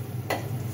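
Garlic drops into a hot frying pan while cooking creamy chickpeas, a short, sharp burst of sizzling that rises over a steady background frying hiss and then settles back down.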